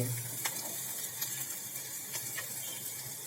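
Onions and chilies sizzling in hot oil in a pan, a steady soft crackle and hiss running throughout with light spatters popping now and then, faint and close with no talking.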